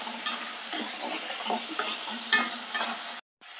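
Thin tapioca chips fry in hot oil, a close, steady crackling sizzle with light rattling stirs, cut off briefly near the end.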